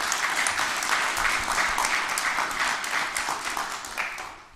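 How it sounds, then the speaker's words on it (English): A room of people at a mayor's press conference in Erie applauds steadily and loudly for several seconds, the dense clapping holding even before tapering slightly at the end. "Let's have a round of applause."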